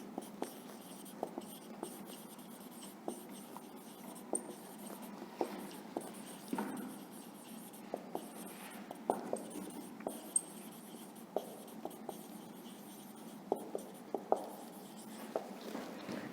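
A pen scratches across paper during a classroom lesson, in quiet, irregular strokes with short taps and pauses, close and faint, and nobody speaking.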